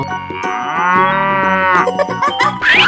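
A cow in a 3D animal slide video game gives one long, loud, close moo, followed by brief game sounds.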